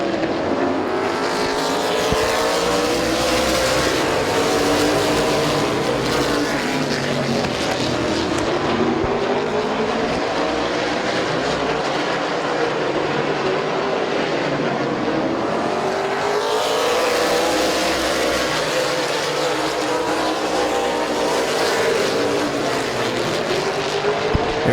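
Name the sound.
race cars racing at Midvale Speedway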